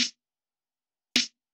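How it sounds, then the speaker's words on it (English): A snare sample from drum kit 10 strikes twice, each hit short and snappy with a crisp top and a little body, separated by about a second of silence. "Also, I used another snare from the drum kit 10 that usually sounds like this."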